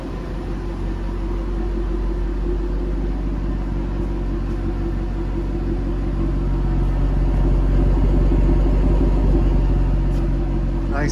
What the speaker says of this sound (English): Nice sounding car, quiet when you want it to be, lots of roar and take off when you want it to as well.